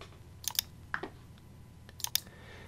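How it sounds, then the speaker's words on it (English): Crisp clicks of a computer keyboard and mouse come in two quick clusters, close and quiet against a faint room hum during CAD drawing work. "I'm holding down my shift key and clicking on each of them."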